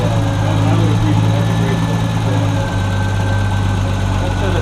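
A 1974 Triumph TR6 engine idles steadily at close range, a low continuous rumble with a slight uneven lope from backfiring issues, running throughout with a brief dip partway.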